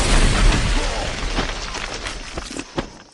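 A dynamite blast in the horror film Wrong Turn erupts as a loud, broad boom right at the start, then rumbles and crackles with scattered debris-like pops as it fades over a few seconds.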